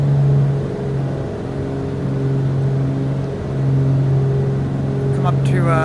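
Twin piston engines of a Beechcraft Duke drone steadily as RPM is brought back, a loud, even cockpit hum with a strong low tone under it, while a voice talks over the engines.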